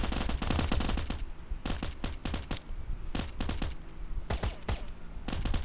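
Bursts of automatic gunfire in the survival video game Last Island of Survival, rapid clusters of shots separated by short pauses, fairly quiet with little else audible.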